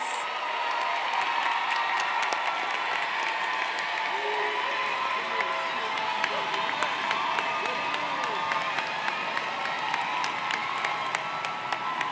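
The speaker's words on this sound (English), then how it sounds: "Let's have one more round of applause for all of our graduates." A large audience at a high school early college graduation ceremony applauds the graduates, with steady, dense clapping that fills the whole stretch and a few faint voices in the crowd.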